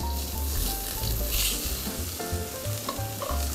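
Chopped onion and carrot stir-fried over medium heat, a dense, close sizzle with steady spatula stirring and scraping throughout.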